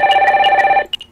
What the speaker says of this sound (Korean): 뭐야, 어떻게 알고 전화 오는 거야?